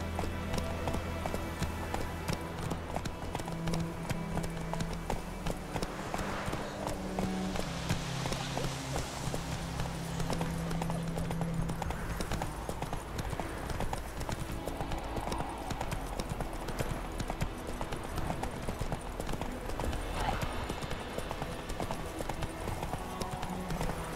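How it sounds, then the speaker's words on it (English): Horse hooves clip-clop at a run in The Witcher 3 video game, a steady rapid drumming of hoofbeats under quiet game ambience and faint background sounds. "Not so fast, Roach."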